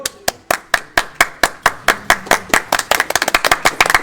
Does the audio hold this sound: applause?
yes